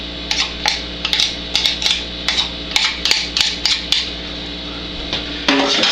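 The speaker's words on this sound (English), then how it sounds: "Scrape all that apple goodness." A spoon scrapes and knocks against a container, moving homemade apple sauce into a pot with a quick series of sharp metallic taps and scrapes, close and fairly loud.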